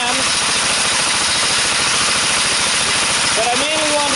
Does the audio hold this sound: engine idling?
yes